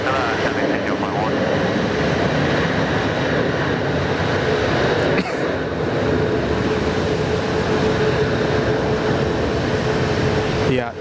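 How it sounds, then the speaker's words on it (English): An Airbus A330 jet takes off from runway 16 right at Sydney Airport, its engines roaring loud and steady throughout with a broad, continuous rumble and hiss. "just firing another A330 off 16 right"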